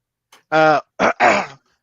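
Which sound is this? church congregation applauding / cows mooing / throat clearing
throat clearing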